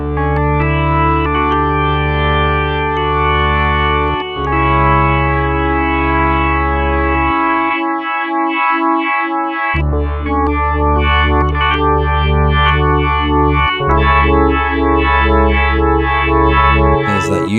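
A Korg SV1-73 electronic stage piano plays sustained warm chords through a swirling univibe modulation effect, loud and continuous, with a brief pause in the bass partway through and no talking.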